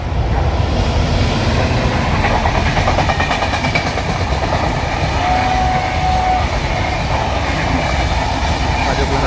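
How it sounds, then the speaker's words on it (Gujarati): A freight train rolls past close by in India, a loud, even rumble of wagons and wheel clatter held at full strength throughout, with a faint horn-like tone briefly audible midway and no speech. "જો પાછી ટ્રેન આવી ગઈ"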